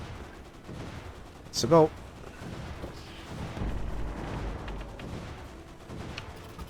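Ship gunners firing in the Waves of Steel naval video game: one sharp, loud gunshot-like burst near the two-second mark, followed by a rumbling, noisy battle backdrop with a voice speaking briefly.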